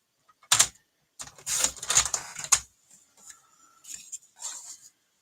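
Paper cardstock on a handmade card is trimmed at close range, with quick crisp slicing and clicking bursts followed by softer brief rasps.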